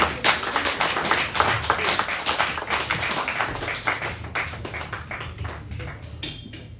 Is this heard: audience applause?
yes